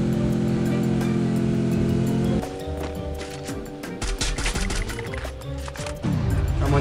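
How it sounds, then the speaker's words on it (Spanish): A car engine drives in the Free Fire battle royale game: a steady, loud motor drone that drops partway through, mixed with clattery game effects, then revs back up near the end. "Mira, hay un carro ahí."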